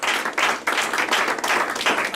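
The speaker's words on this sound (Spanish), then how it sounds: "Dele fuerte ese aplauso a su Señor" Church congregation applauding during a sermon, loud rhythmic clapping in several pulsing bursts, close and vigorous with no speech over it.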